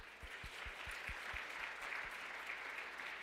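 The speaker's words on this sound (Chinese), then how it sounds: "拍手" A church congregation at a Christmas praise service applauds steadily, a dense, even wash of many hands clapping at moderate distance, with a few louder individual claps near the start.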